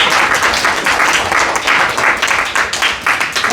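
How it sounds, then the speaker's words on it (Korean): Loud, close applause from an audience at an education lecture welcoming a guest to the stage, a thick, continuous wash of clapping with no talk over it. "큰 박수로 맞이해 주시기를."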